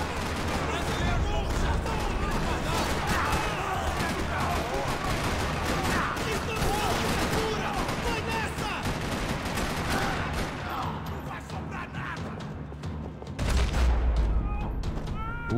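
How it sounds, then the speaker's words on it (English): Dense gunfire in a parking lot in the video game Max Payne 3 rattles in overlapping bursts and fusillades, loud and nearly continuous, with a heavy boom near the end. "Another parking lot rattling with gunfire."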